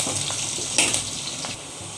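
Onion, garlic and green chili frying in a pan, giving a steady bright sizzle with light stirring scrapes, close and fairly loud, with no voices.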